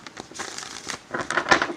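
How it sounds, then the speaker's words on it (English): A deck of tarot cards shuffled close by during a soul-mate reading, with soft crinkling riffles, a quiet start and then louder papery bursts toward the end, with no talking. "Oh, okay, one more shuffle."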